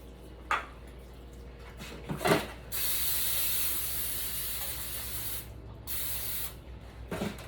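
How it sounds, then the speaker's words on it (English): Long hissing sprays from an aerosol can of cooking spray onto a pan, a sustained burst then a shorter one, with a few light clinks of cookware between. "So I'm going to spray my pan."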